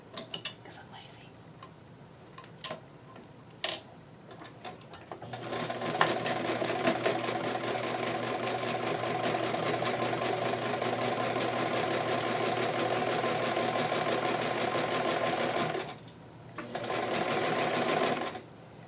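After a few light clicks and handling noises, a sewing machine runs steadily for about ten seconds, stitching a doll dress skirt with straight pins left in. It pauses briefly, then runs again, close and clear.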